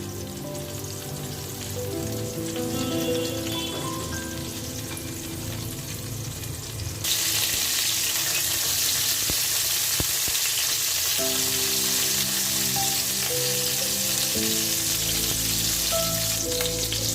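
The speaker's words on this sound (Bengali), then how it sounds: "সময় নিয়ে পটলগুলো ভালো করে ভাজি করে নিব" Pieces of pointed gourd (potol) fry in hot oil for an aloo potol soya dish, a steady close sizzle that grows louder and brighter partway through, while background music plays throughout and no one speaks.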